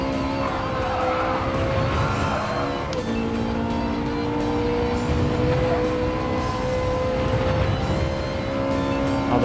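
A race car in Gran Turismo 7 runs a fast lap, its engine holding a loud, steady high drone with a brief dip in pitch at a gear change, then pulling on continuously with faint tire noise underneath.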